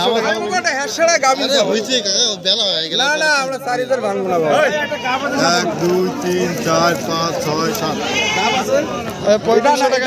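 Goats bleat repeatedly at close range at a goat market, their wavering cries overlapping busy chatter from several people throughout.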